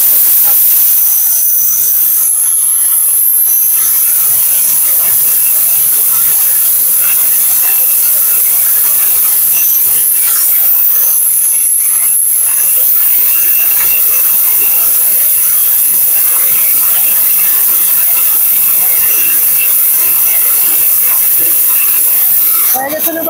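A 1600-watt electric blender grinds spices with a loud, continuous high-pitched whirring hiss that barely changes in pitch throughout.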